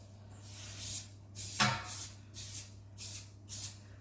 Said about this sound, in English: So I spray it with canola oil.